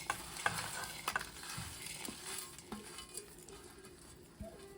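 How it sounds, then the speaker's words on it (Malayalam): Crushed Maggi noodles roasting in a hot pan, a faint dry sizzle under repeated light scraping and stirring strokes, with a few soft clicks of the spoon against the pan. "നമുക്ക് നമ്മുടെ മാഗി റോസ്റ്റ് ചെയ്യാം"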